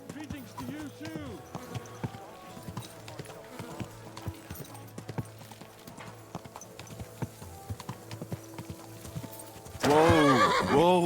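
Horse hooves clip-clop in a steady rhythm in the medieval game Kingdom Come: Deliverance II, then a loud neigh bursts out near the end. Character voices talk faintly over the hoofbeats.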